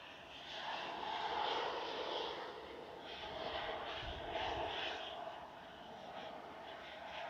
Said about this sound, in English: there's also a little jet coming in